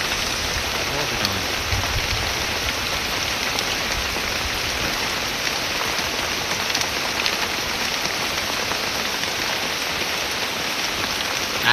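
Steady rain falling in a forest, a dense, even hiss of drops on leaves and surfaces that stays constant and fairly loud throughout, no talking.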